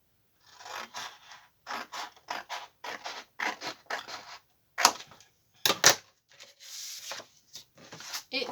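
Scissors snip through paper for a vintage-style box in a series of repeated crisp cuts and rasps, close and clear, with no talk over them.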